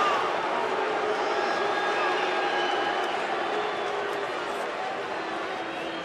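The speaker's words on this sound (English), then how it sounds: "Huge crowd tonight, especially considering it's a Monday night" A large crowd of Phillies fans fills a Colorado ballpark on a Monday night during a Phillies at Rockies game, a steady dense roar of murmuring and cheering holding at even loudness throughout.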